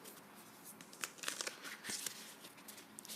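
Tarot cards shuffled by hand during a quiet ASMR reading: soft, crinkly riffling and papery slides in close, irregular bursts, with no talking.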